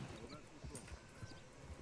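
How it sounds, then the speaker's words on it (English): Horse hooves clip-clopping in the Red Dead Redemption RedM game, a steady close rhythm of thudding steps under faint background talk. "Damn horse has just turned up."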